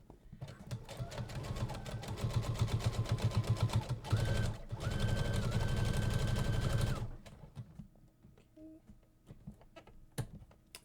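A sewing machine back stitches on a tote bag, running in a fast, loud, rhythmic rattle for about six seconds with a brief pause partway through, then stopping and leaving quiet clicks and handling noise.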